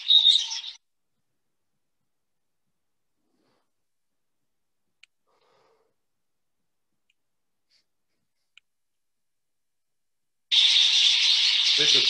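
Canary song from a competition breeding bird, bright trilling bursts at the start and again loudly near the end, separated by a long near-silent gap.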